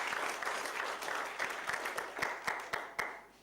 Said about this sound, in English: please give yourself also a round of applause